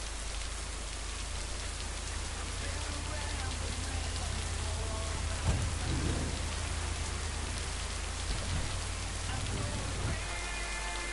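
Rain pours in the video game Lake, a dense steady hiss of drops on surfaces with low rumbling underneath, while a voice speaks partway through.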